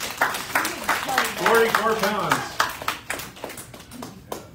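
A seated audience at a cancer prevention talk breaks into brief clapping that swells and then thins out, with a speaker's voice over the applause.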